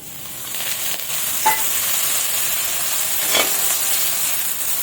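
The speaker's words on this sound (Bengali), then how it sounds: "এবার কিন্তু উচ্ছে ভাজাটা করবো" Sliced bitter gourd fries in hot oil in a wok with a constant bright sizzle, broken twice by short scraping stirs.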